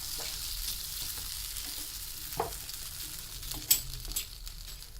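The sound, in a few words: stirring grated coconut into frying erissery in a pan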